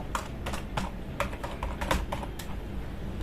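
Fingers tap out a stream of close, crisp keystrokes on a computer keyboard, irregular in rhythm with short pauses between bursts, over a low background hiss.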